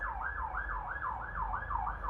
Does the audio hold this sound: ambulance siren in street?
yes